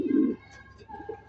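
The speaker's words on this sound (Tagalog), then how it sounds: "Yan ang kalapate." A racing pigeon gives a single short, close coo at the start, followed by quiet background.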